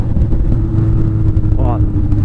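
A Honda CB 1000R with a straight-pipe exhaust being ridden, its loud, rough engine drone holding steady close by while a rider talks over it.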